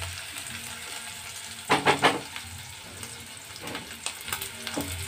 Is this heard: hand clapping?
no